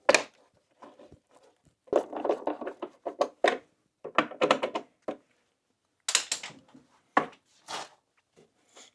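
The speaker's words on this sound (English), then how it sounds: "Let's put our cover on." A Victron Lynx busbar cover being fitted in place: a run of close, sharp plastic clicks, taps and knocks in uneven bursts, with brief pauses between handling sounds.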